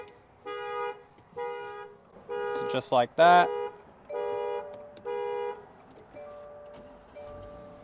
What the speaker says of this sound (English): got it started and the alarm went off